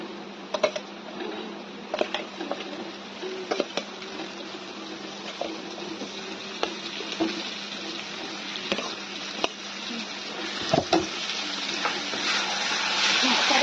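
Assamese masala paste frying in oil in a pan before the meat goes in: a low, continuous sizzle punctuated by frequent sharp taps and scrapes of a spatula stirring against the pan.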